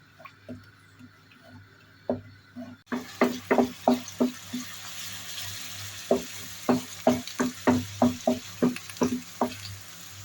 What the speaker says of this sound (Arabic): هون معانا بصلة مبشورة بشر، قطع الزيت ونحركها